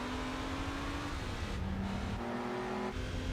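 Mercedes race car engine in Gran Turismo 4 during a race against a BMW, a steady high-pitched whine holding pitch then dropping and rising with gear changes, continuous and prominent with tire noise underneath.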